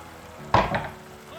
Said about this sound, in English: And I'm adding in some water.